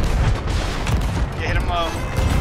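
Rumbling cannon fire during a Sea of Thieves naval battle between ships, loud booms and crashing impacts amid sea and battle noise, with voices talking over it.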